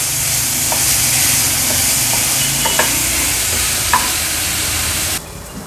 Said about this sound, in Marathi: हाय फ्लेमवर एक 2 ते 3 मिनिटासाठी फक्त ह्याला आपल्याला परतून घ्यायचे